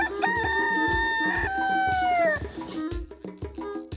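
Chickens on a farm, one rooster crowing loudly and close in a long rising-and-falling call, with steady clucking and pecking around it, no voices.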